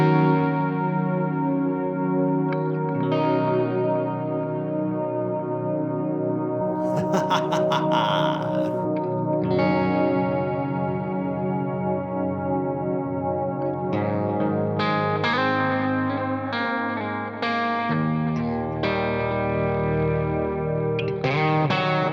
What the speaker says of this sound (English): Man, do I miss this kind of delay sound.